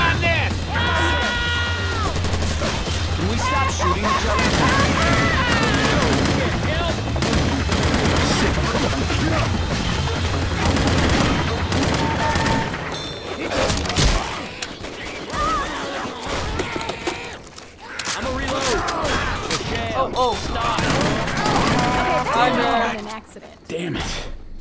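Left 4 Dead 2 custom-campaign gunfire, rapid bursts and repeated shots rattling loudly for most of the stretch, with players talking over it and a quieter gap near the end.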